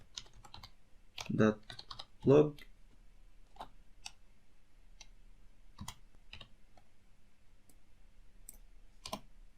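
Someone types code on a computer keyboard with scattered, quiet key clicks that come in short bursts and sparse single taps. A voice speaks briefly near the start.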